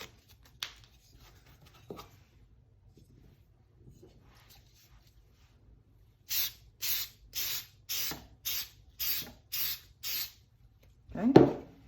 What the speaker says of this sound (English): we should probably go ahead and spray these as well